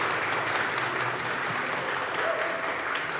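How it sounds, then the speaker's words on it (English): Applause from a town-hall meeting audience at the Monroe Fairgrounds runs as a steady, moderately loud wash of clapping through the short stretch. "Let's give a big round of applause to Marsha."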